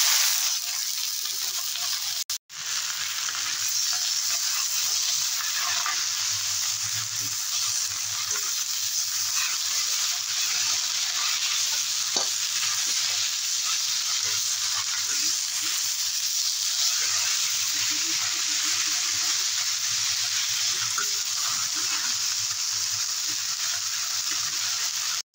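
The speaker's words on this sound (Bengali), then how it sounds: "রসুন ভাজা হয়ে গেছে, শাকটা দিয়ে দেবো" Jute greens stir-fried in a pan over fried garlic and dry chilli give a continuous, even frying hiss with faint stirring scrapes, close and steady, with no voices.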